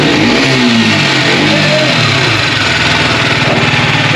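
A motorcycle engine runs loud and close, its note rising as it is revved during a chain cleaning with Motul C1 and C2 sprays, then settling into a rapid throbbing idle.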